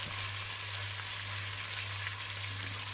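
Onion and tomato masala fries in a pan for malai kofta, a steady close crackling sizzle over a low constant hum, with no talking.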